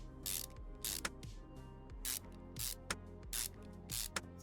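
Small screws being fitted back in during a brake system repair in Car Mechanic Simulator 2021, heard as a series of quick, bright ratcheting clicks and whirs in regular bursts against a low mechanical hum.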